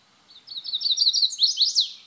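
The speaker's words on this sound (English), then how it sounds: "Chestnut-sided warbler." A small songbird, a chestnut-sided warbler, sings a quick, bright series of high chirping notes that speeds up and ends with an emphatic rising flourish, clear and close.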